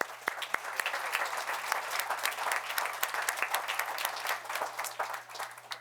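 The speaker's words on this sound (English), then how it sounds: "One more round of applause for her." Audience at a town board meeting breaking into sustained applause, a dense steady patter of many hands clapping at moderate distance for several seconds with no talking.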